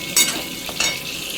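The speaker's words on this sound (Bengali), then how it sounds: "কই মাছটা একটু কড়কড়ে করেই ভাজছি।" Koi fish frying crisp in hot oil, a brief close sizzle broken by two quick spatters or stirring clinks, with no voices.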